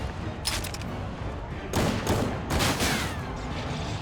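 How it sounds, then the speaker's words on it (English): Gunfire in Final Fantasy XIV during a street clash between Arcadian fighters and Oblivion, bursts of rapid shots in several volleys at mid distance over a faint background bed. "That's a gun."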